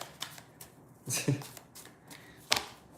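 A deck of playing cards being given a quick shuffle, a few soft riffling bursts and snaps spread over a few seconds, close and fairly quiet with no talking.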